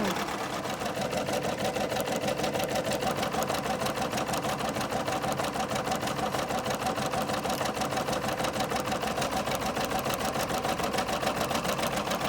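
An embroidery machine stitching out a sweatshirt design, a fast, even mechanical chatter of needle strokes running steadily and loud throughout, close to the machine.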